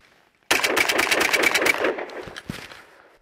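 A Panzer M4 shotgun fires a rapid string of loud, close blasts in 22°F cold, the shots crowding together for over a second before tapering into a few scattered reports.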